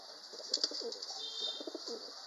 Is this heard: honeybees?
no